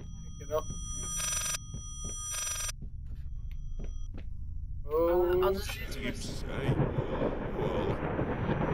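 A telephone rings twice in clear repeated bursts under low background talk, followed by a loud shouted voice and then a rumbling, noisy wash of sound.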